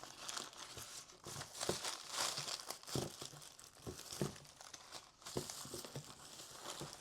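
Small plastic bags get handled and crinkled at a craft workshop table, a steady close-up rustle and crackle lasting several seconds with a few sharper crunches and no talking.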